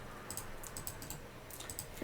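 Quiet, rapid keystrokes on a computer keyboard as a command is typed into a terminal, the clicks arriving in short irregular bursts under a steady background hiss.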